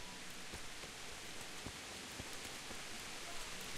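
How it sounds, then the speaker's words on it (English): Heavy rain in the game Kingdom Come: Deliverance hisses steadily and loudly, a dense wash of drops with occasional sharper spatters and no talking. "This rain."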